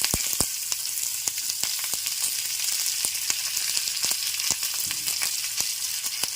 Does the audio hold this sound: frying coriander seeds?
yes